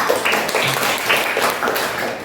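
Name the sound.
class applause for a student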